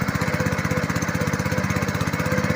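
A homemade household generator's small engine runs loud and close with a rapid, even pulsing chug that holds a steady rhythm across the clip and does not clearly climb in speed.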